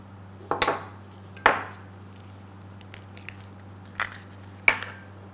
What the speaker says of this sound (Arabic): وحقلب هالمكونات مع بعضها